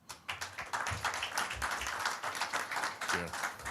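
Scattered, fairly faint applause from a press conference audience, uneven claps overlapping with some murmuring voices.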